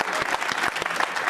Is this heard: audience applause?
yes